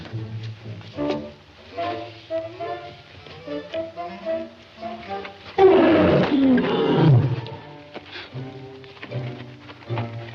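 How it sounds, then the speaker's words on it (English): A lion roars in a 1941 romantic comedy film: a loud, rough growling burst midway through, set against an orchestral music score that plays throughout. "Kitty, kitty, kitty. Where's that lion at?"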